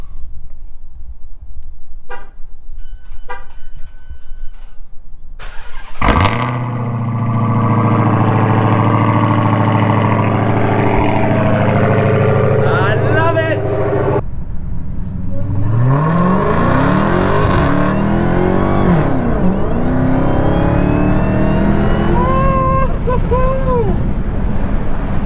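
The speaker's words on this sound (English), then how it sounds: "And of course, we have to do a cold start." A Dodge Hellcat engine cold-starts with a sudden loud roar that settles into a heavy, high idle, followed by several rising and falling revs, all loud and close.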